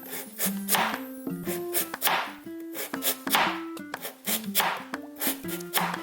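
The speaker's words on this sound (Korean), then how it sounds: "무는요 얄팍하게 썰어 주셔야 돼요" Knife slicing radish thinly on a cutting board, rapid close chops in quick bursts with short pauses between runs, bright and crisp, no voice over it.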